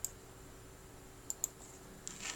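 A few faint, sharp computer mouse clicks sound while Peppermint Linux is being installed. The clicks come singly and in a quick pair over a quiet, hissy background, with no speech.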